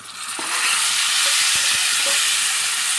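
Boiled potatoes and eggplant are stirred into hot oil with garam masala and salt for an eggplant curry. A loud, continuous close-up sizzle fills the pan, with faint scraping stirs and light knocks beneath it, and no voices.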